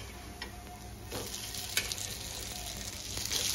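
Cabbage cutlets fry in a pan with a soft, steady crackle and sizzle, carrying a few faint clicks from a utensil as they are turned, with no talk.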